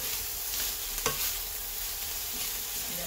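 Rice noodles sizzle and fry steadily in a hot pan while being stirred, with a constant crackling hiss and a few sharp scraping clinks of a utensil.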